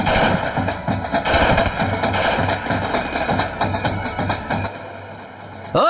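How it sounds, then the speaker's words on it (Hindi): Repeated celebratory gunfire in a dubbed South Indian action movie, sharp bursts of shots in quick irregular volleys close and loud over a constant background rumble, fading slightly toward the end. "हम फायरिंग करते हैं।"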